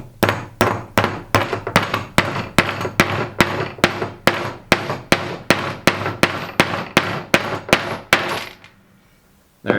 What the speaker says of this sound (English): now you can put your finish nail in and drive down with a hammer.